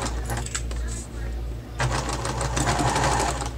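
A home sewing machine stitches a curved fabric seam on a Moroccan-style storage ottoman, its rapid mechanical whir close and steady. It pauses briefly, then speeds up again.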